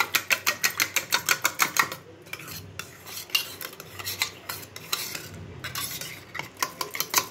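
Egg mixture for an omelette whisked briskly in a bowl, a fast regular run of close scraping, clinking strokes that breaks off, then resumes more loosely and picks up its steady rhythm again near the end.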